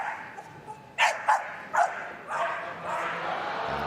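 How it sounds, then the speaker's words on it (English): A working Cocker Spaniel barks in a string of short, sharp yaps while running an agility championship course, the barks fairly near and standing out over a crowd murmur and commentary. "Barks his way round the course, and the better he goes, the louder he barks."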